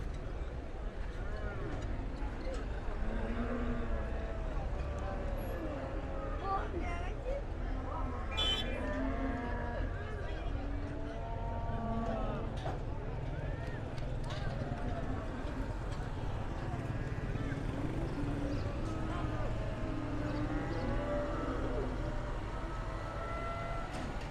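Cattle moo repeatedly at a large livestock market in northern Iran, the calls overlapping and near to mid-distance over a steady crowd murmur, with animal shuffling and people talking throughout.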